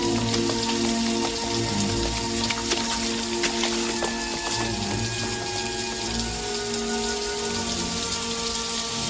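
Heavy rain from a nighttime rainstorm pours steadily onto surfaces, a dense continuous hiss with scattered drips and splatters, unbroken throughout and with no talk.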